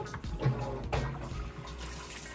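Kenmore HE top-load washer on a deep fill setting adds more water to the tub, a steady running-water rush with faint sloshing, close and continuous.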